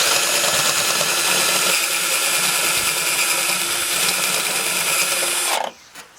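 A step drill bit grinds steadily through sheet metal as it widens a hole, a loud continuous whirring bite with no pauses, close by, before it stops abruptly near the end and leaves a faint rattle.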